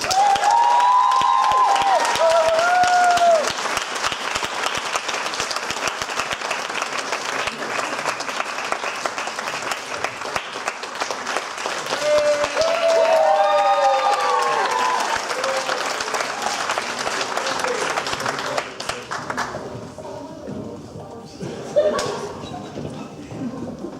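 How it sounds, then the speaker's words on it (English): An audience at a school awards evening gives a sustained round of applause, steady dense clapping with occasional whoops and cheers rising over it, tapering off near the end. "please give a massive round of applause"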